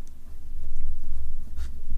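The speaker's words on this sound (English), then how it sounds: "we're going to fold this little tab in" A small paper tab on a mini album is folded and pressed down by hand, giving a close, soft rubbing and creasing sound with a faint crinkle near the end, alone and fairly loud.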